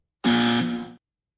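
A single loud electronic buzzer blares for about three-quarters of a second in a sports radio studio, then cuts off into silence.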